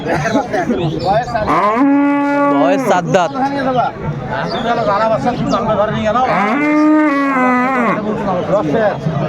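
Cows and calves moo loudly and repeatedly at a busy cattle market, long drawn-out calls up close, with a murmur of people talking in the background.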